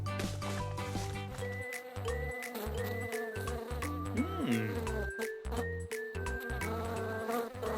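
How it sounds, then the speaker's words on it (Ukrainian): Cartoon fly buzzing in a prison setting, a continuous wavering drone with shifting pitch, layered among bright tonal musical sounds and brief pauses. "Хороша муха, молодець."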